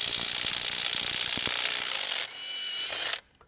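A Makita XWT02 18V brushless 1/2-inch impact wrench running in reverse on a corroded lug nut, a loud, close, continuous rapid hammering whir that shifts pitch partway through and then stops abruptly.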